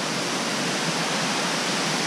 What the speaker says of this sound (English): we're at the top of a waterfall.